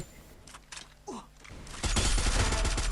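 Dense bursts of rapid gunfire in the shooter game Free Fire, starting with a few scattered shots, then a loud sustained volley filling the last second.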